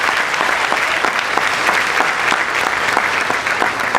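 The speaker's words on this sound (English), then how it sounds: "Let's clap on that, you all." Graduation audience at a high school ceremony breaks into clapping, a lively, close burst of many hands with distinct individual claps audible, steady throughout four seconds.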